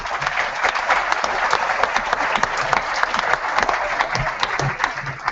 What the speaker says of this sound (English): give all yourselves, first and foremost, a big round of applause for being here tonight